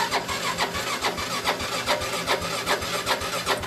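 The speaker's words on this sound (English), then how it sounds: "Kung mag-i-start na ba yung motor." A Yamaha motorcycle with a fuel pump regulator IC fault cranks over, giving a steady, rhythmic pulsing of the starter and engine heard up close for several seconds.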